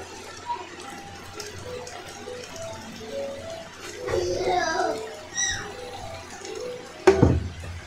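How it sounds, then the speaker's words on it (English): Hot tap water runs over stockfish and catfish at a kitchen sink, a low steady wash under spoken voices, ending in a short loud splash. "So I washed them with hot water."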